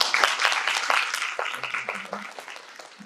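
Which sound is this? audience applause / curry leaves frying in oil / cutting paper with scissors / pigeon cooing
audience applause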